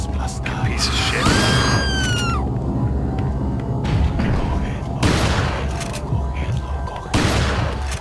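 Gunfire from a weapon in the video game Resident Evil 4, sharp loud shots recurring every couple of seconds amid game noise, an enemy scream and someone talking over the action.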